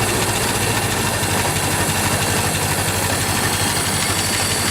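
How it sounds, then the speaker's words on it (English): A Ford Model T engine idles with the spark retarded and the throttle closed, a steady close-up low rumble with a fast, even chugging rhythm and no voices. "the engine should be quite happy to run with the spark retarded and the throttle idle."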